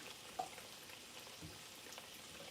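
Zucchini frying in a pan, producing a faint, steady sizzle with small crackles scattered throughout.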